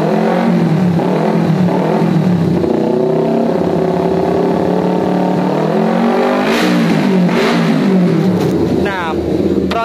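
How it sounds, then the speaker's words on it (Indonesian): Motorcycle fitted with a new exhaust header revving, a loud throaty engine note rising and falling in repeated throttle blips at close range, with a voice talking over it. "Suaranya itu beda ya guys, dari suara knalpot sebelumnya sama sesudahnya,"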